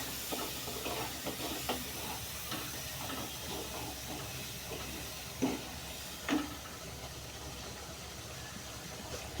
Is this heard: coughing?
no